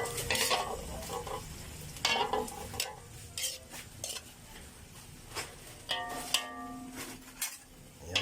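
Vegetables for pancit bihon with canton sauté in a pan, a soft steady sizzle broken by repeated scraping and clinking of a spatula or utensil against the cookware, close and fairly quiet.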